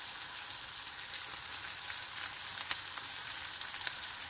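Onions fry in a pan, a faint steady sizzle and crackle heard alone in a quiet home kitchen.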